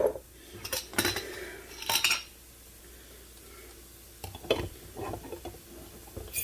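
Home canned potatoes, dry canned with skins on, going into a hot pan, with clattering metal cookware and utensil scrapes in short bursts, a quiet pause between them, and a faint sizzle underneath.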